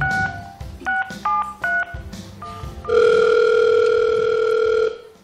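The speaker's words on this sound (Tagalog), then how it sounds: "Let me dial again." Telephone dialing sequence: a string of short two-tone keypad beeps in uneven rhythm, then a steady, loud held tone lasting about two seconds, clear and close with no talking.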